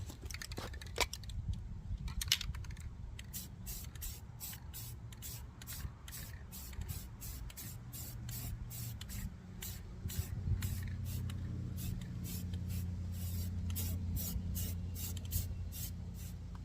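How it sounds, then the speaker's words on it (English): Short bursts of spray paint as a light dust coat of primer goes onto a 406 small-block Chevy engine outdoors, a steady hiss broken into many quick, regular pulses, near and fairly loud over a low background rumble. "Do one more little dust coat over here"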